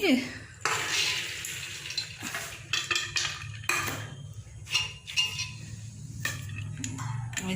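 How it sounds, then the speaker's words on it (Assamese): Mung beans poured into a pressure cooker in a home kitchen, giving a busy run of metallic clatter, rattles and clinks with short louder bursts, close and fairly steady throughout. "ঢালি দিলোঁ কুকাৰত মগুখিনি"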